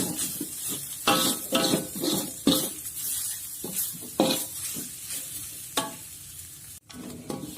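Grated coconut fries in a pan over lowered heat, beginning to scorch, with a soft sizzle under repeated scraping stir strokes and occasional clinks of a utensil against the pan.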